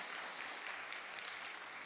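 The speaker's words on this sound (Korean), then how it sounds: "우리 박수하시겠습니다." A church congregation at a Sunday worship service claps in steady continuous applause, fairly faint and at a distance, with no speech.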